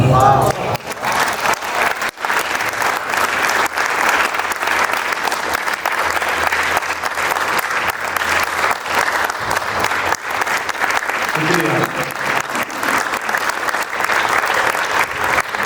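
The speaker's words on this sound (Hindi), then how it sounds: "ये तालियां मुंशी प्रेमचंद साहब के लिए है।" An audience bursts into long, sustained clapping after a Dastangoi storytelling performance of Premchand's story Idgah. The applause is dense and steady throughout, with a faint voice underneath near the end.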